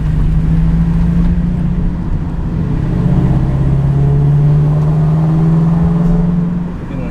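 A Subaru BRZ, Scion FR-S or Toyota 86 fitted with an unequal-length catted header and Corsa exhaust drones with a steady low rumble heard through open windows while driving, its pitch easing slightly upward before fading near the end.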